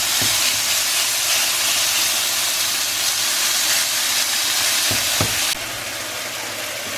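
Beef sizzling loudly in a hot pan while being seared for Philly cheesesteaks, a steady dense hiss with a few brief clinks of a utensil against the pan.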